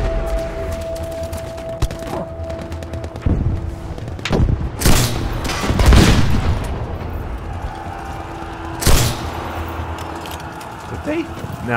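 Booming cannon blasts and scattered gunfire erupt in a noisy Battlefield V battle on PC, with loud bursts punctuating a busy rumbling background while voices talk.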